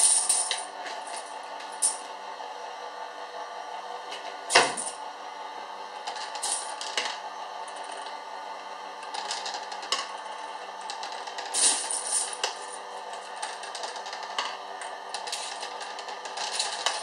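Coins drop and clink in a Penny Falls coin pusher arcade machine: scattered sharp metallic clatters over a steady mechanical hum, with a few louder spills around the middle and near the end.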